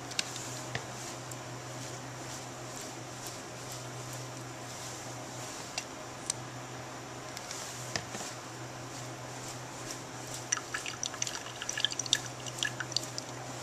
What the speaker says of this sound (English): grasp it firmly and flick. And that will remove the water from the lanes.